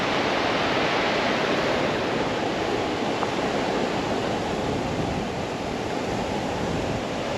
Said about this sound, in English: This is showing you the river in the centre of Dumfries,